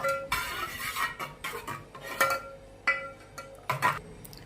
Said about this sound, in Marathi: पाकामध्ये आपण ही विलायची पावडर टाकून मिक्स करून घेऊया